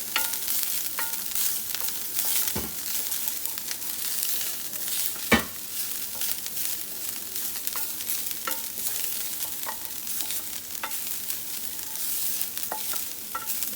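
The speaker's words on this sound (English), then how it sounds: "give it a stir." Turkey berries sizzle steadily in a very hot pan taken off the stove while a utensil stirs them, the scraping strokes and occasional sharp clinks standing out over the continuous frying hiss, with no speech.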